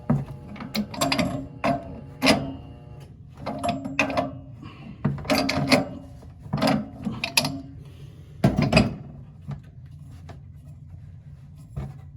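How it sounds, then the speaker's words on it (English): A valve being removed from a Burnham Independence steam heating system, with close metallic clanks, ratcheting and scraping in irregular bursts and short pauses, no talking. "Let's take that valve off again."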